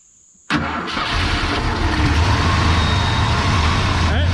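A 1950s car engine cranks and catches abruptly after a near-silent start, then settles into a steady, loud, close idle with a rough low rumble that continues to the end.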